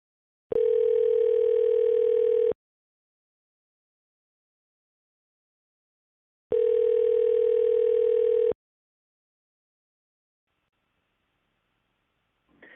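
Telephone ringback tone heard while a call is placed: two steady two-second tone bursts about four seconds apart, alone against silence, with a faint click at the very end.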